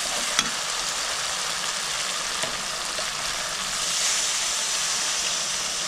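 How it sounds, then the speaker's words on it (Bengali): Water poured into a pan of sizzling mustard and poppy seed masala for a fish curry, giving a loud, steady hissing fry that fills the clip with a faint clink near the start. "অল্প কিছুটা জল দিয়ে দিলাম।"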